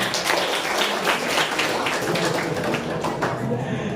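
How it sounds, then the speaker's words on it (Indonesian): An audience at a school candidate debate applauds steadily for the candidate pair, a dense even clatter of many hands clapping for about four seconds. "tepuk tangan untuk sesi pasangan calon"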